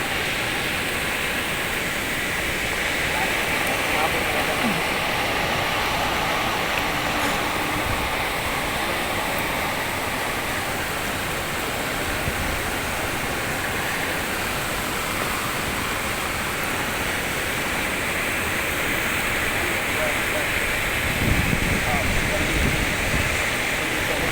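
Loud, steady rush of churning floodwater from an overflowing river fills the whole stretch, a dense roar of water pouring through a street, with faint voices now and then.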